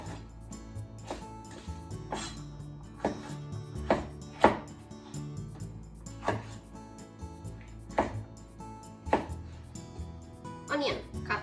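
Knife chopping green peppers into bite-size pieces on a cutting board, a series of separate sharp taps at a loose, irregular pace, close by, with soft background music and no voices.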